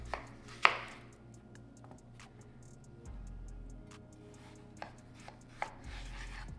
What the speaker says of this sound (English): Now let's go ahead and start cutting them into thick chips and or French fries.